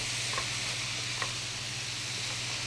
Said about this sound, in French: Donc on la fait griller un peu dans ça.